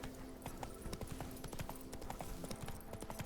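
Horse hooves clip-clop in The Witcher 3: Blood and Wine, a steady quick trotting rhythm of soft hits held at a low level through the whole stretch, with no talking.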